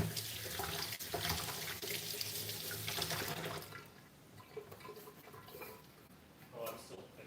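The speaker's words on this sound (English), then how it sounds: "I'm gonna shower now" Shower water running steadily in a bathroom, a constant hiss of spray that softens midway, with voices talking over it at moments.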